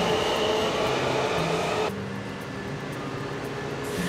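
A Washington DC metro train runs underground with a loud, steady rumble and roar that suddenly drops to a quieter hum about halfway through, then swells again near the end.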